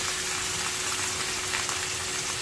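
Tofu wrapped in sliced pork sizzles steadily in a pan as it fries, a dense, even crackle close by with no talking.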